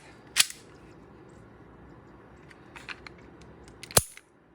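An Army R31 gas airsoft pistol fires two sharp, close, loud cracks about three and a half seconds apart, with soft mechanical clicks and handling noise in between.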